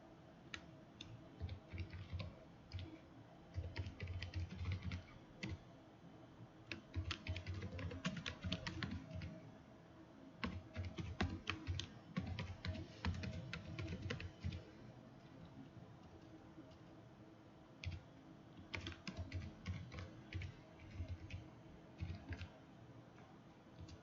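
Fingers type on a computer keyboard to enter account details, quiet, close clicks arriving in irregular bursts with short pauses between runs of keystrokes.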